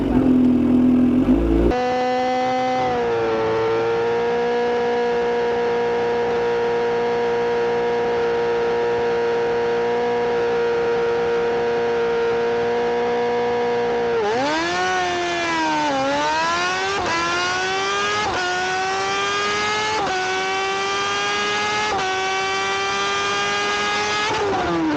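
A Kawasaki Z H2 motorcycle on a drag strip run: a loud, close engine holds a steady high note, then accelerates through several gear changes with rising pitch and brief dips between them.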